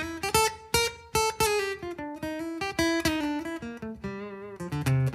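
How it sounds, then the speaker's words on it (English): Dry electric guitar with no reverb, a quick phrase of plucked notes and short chords that stop cleanly, close and moderately loud. "Here's without the reverb."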